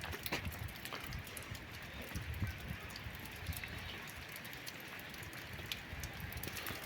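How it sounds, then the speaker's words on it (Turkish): Steady rain patters continuously, a dense even hiss of drops with occasional louder taps, no one talking. "öyle bir yağmur yağıyor ki"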